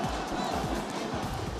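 Crowd noise from the Mapua Cheering Cardinals rousing spectators at a men's basketball finals game, a dense, steady wall of cheering and shouting voices filling the arena.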